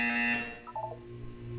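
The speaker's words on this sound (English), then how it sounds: "You will hear a buzzer." Portal 2 video game buzzer: a brief, faint electronic tone sounds once and fades quickly, followed by a few soft blips under low background hum.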